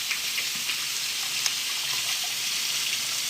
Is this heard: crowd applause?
no